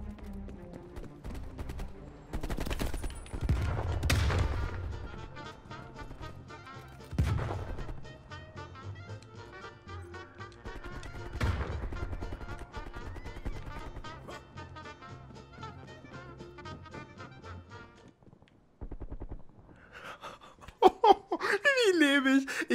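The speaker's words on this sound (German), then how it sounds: "Ich schieße einfach auf alles drauf." Video game gunfire: a few loud, scattered shots, the sharpest early on, break over a steady musical game background, with a burst of jumbled effects near the end.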